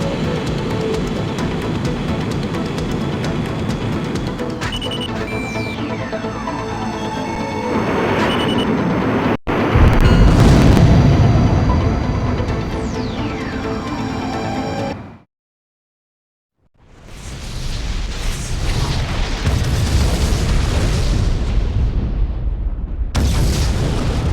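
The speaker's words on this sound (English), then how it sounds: "The fortress has really been destroyed!" Loud booming explosions and rumbling blasts with descending whistles as a fortress is destroyed in Ace Combat X, a sudden cut to silence, then another roaring wave of explosive noise.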